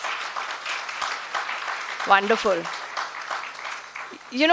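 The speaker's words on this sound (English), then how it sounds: "A louder round of applause" Students applaud at a B.Tech orientation for ILM University's School of Computer Science, a dense, steady patter of many hands filling the hall while a voice speaks over the clapping.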